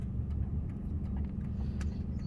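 A car drives along a road, heard from inside as a steady low engine and tyre rumble with faint rattles and no talk.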